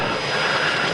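A Piper Cherokee airplane engine runs steadily during a run-in after a cylinder change, a loud continuous roar heard close by with no pauses or voices.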